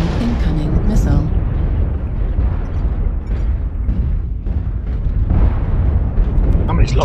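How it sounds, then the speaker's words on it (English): A missile explodes in a mech combat video game, a loud rumbling boom that rolls on through the whole stretch, with bursts and blasts layered under ongoing game noise. "Incoming missile."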